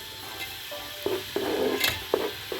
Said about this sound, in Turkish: Şöyle önden birazcık soğanımı sotelim.